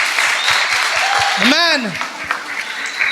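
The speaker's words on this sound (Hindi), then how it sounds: "क्यों ना यीशु मसीह के लिए जोरदार तालियां बजाएं।" A congregation at a Hindi sermon claps in a steady, rhythmic beat, and a voice calls out over the clapping.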